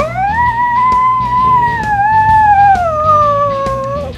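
A small Chihuahua howls loudly and close up in one long, sustained, wavering note that slowly rises and falls in pitch, with no talking over it.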